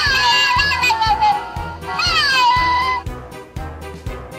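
A cat meme toy plays its recorded meowing, two long wavering electronic meows over a repeating thumping beat, loud and close. Voices talk quietly underneath.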